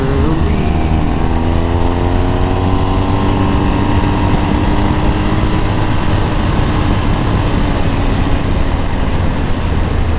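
Motorcycle engine carried through a corner, loud and continuous with rising and falling throttle tones as the rider brakes and gets back on the gas, wind rush underneath and no talking.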